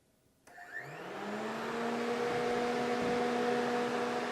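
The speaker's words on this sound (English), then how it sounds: "So let's go ahead and turn the fans back on." Honda Civic radiator cooling fans switch on from silence and spin up, a steady whirring hum with rising tonal whine that settles into a constant, moderately loud drone.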